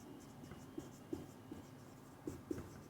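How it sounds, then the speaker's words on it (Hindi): Marker or chalk strokes on a classroom board during a chemistry lecture on the Balmer series, a handful of faint, quiet taps and scrapes spaced irregularly over low room noise, with no talking. "मैं लिख भी देता हूँ यहाँ पर"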